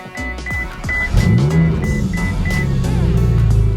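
A Ferrari engine cranks and catches, settling into a steady, loud idle rumble with a faint electronic chime repeating above it.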